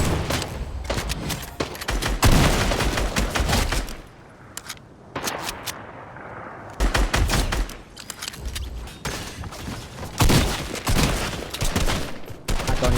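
Rapid gunfire from another player in a video game, bursts of shots rattling in quick volleys with short pauses between, loud and close throughout with no talk over it.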